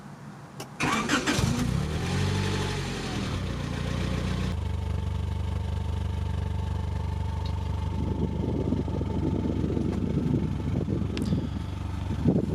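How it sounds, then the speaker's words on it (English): A Honda Prelude with an aftermarket muffler cranks over and fires up, followed by a steady, smooth idle with a loud, even rumble that continues to the end. "Let me go ahead and give you a quick start up here."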